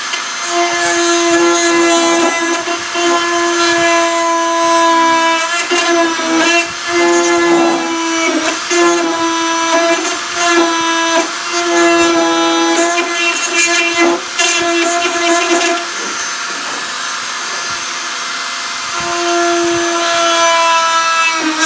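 A loud, steady high-pitched whine of a rotary cutting bit grinding through material, with brief dips as the bit bites and lifts, continuous throughout.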